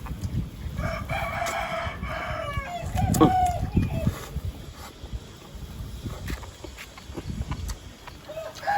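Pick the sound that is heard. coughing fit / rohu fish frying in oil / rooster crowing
rooster crowing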